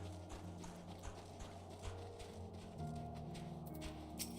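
Slow, regular stomping steps of Glacius in Final Fantasy XIV, muffled thuds spaced about half a second apart over a low droning game background, faint and fairly distant.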